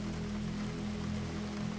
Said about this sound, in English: the rain continued its ancient song against the windows